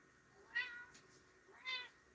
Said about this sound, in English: My cat's saying hi to you guys.